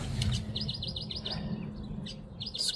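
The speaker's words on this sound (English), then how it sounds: "And there's this bird outside." A small bird chirps outside at dawn in New Mexico, with quick clear repeated tweets in a short series, a pause, then more, over a low background hum.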